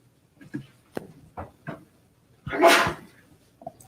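A single sharp sneeze bursts out during a township committee meeting, after a few short scattered sounds, with another brief noise just after it, fairly close.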